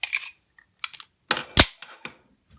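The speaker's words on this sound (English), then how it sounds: "Do a little function check. Put in the empty mag. Make sure it locks up." An empty magazine is pushed into a Springfield MC Operator 1911 pistol during a function check, giving a few crisp, close metallic clicks and a sharp snap as it locks, with quiet gaps between.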